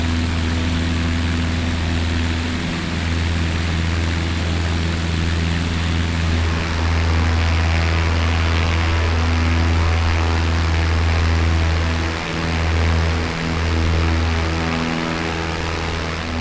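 A propeller airplane engine drones steadily in flight during a climb at around 110 knots, a loud, close, continuous hum with a strong low tone and a few slight dips, heard alone without talk.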